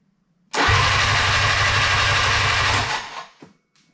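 A Willys CJ-2A Jeep's new engine is cranked with the throttle held wide open, bursting into a loud, steady roar for about two and a half seconds before dying away, followed by a couple of faint clicks.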